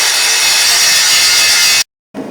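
Grinding on a forged steel axe with a steel shaft, a loud continuous abrasive rasp that holds steady for nearly two seconds, cuts out briefly, then resumes.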